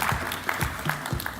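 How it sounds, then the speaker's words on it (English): An audience at the Safaricom Engineering Summit claps to welcome a panelist onto the stage, producing a short burst of scattered, fairly close handclaps. "Please welcome him with a clap."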